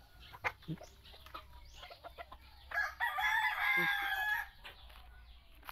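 A Bisaya rooster crows loudly and nearby, one long cock-a-doodle-doo in the middle, with scattered clucks and faint background sounds before and after.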